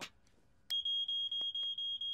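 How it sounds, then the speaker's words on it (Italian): An alarm clock rings in an Italian Fireman Sam cartoon, a steady high electronic tone repeating in short pulses after a brief click, close and loud with no talk over it. "è una sveglia. Spero ti aiuterà ad alzarti in orario la mattina."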